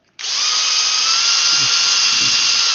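A small power drill driving a thin bit into a cabinet starts abruptly and holds a loud, steady high whine, close by, with a faint low murmur beneath it.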